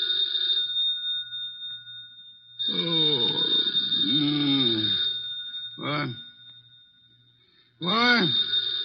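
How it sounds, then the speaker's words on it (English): An old telephone bell rings in bursts, its high metallic tone running under and between voices talking, with short gaps and a final ring. "The phone."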